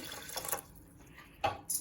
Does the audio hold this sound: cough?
no